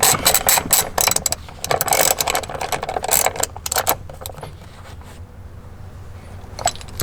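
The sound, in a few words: T50 ratchet screwing seatbelt bolt into BMW M3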